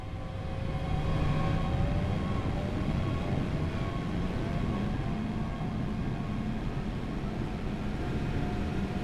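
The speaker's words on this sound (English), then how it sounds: "there goes that train. It just got the clearance to move ahead." A train rumbles steadily off from a standstill in a train-driving game on the Glasgow Queen Street to Eastfield Depot route, with a continuous low drone and faint tonal whines throughout and no voices.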